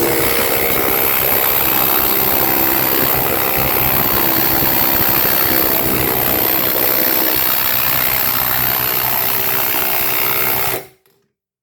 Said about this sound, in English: my Porter cable air hammer hasn't been used in so long that it's having trouble getting started